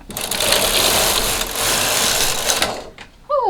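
A vintage knitting machine runs with a loud, dense mechanical whir and rattle as the carriage is pushed across for about three seconds, then stops abruptly before a voice cuts in.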